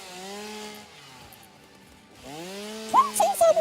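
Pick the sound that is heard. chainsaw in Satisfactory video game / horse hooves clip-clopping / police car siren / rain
chainsaw in Satisfactory video game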